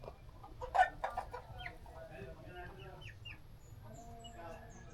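A large chicken clucks in short, soft bursts close by in an outdoor yard, with faint bird calls and quiet human voices underneath.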